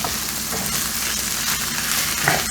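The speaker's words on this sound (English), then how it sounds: "So, we got frying action going on." Steady, close sizzling of rice and chorizo frying in a pot, a dense crackling hiss that continues without a break.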